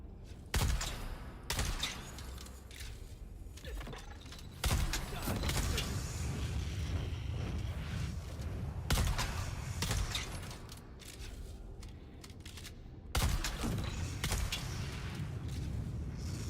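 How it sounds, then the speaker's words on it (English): Shotgun blasts in the desert survival game Dune Awakening, a few loud broadband bursts spaced seconds apart over a rumbling ambient bed, with faint mechanical noise between shots. "Guy's taking some shotgun rounds to the head, man."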